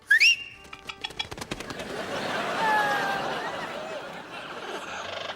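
A large, majestic bird calls on a lonely, dreary prairie: a few high rising whistled cries open the scene, then fade into a steady wash of sound.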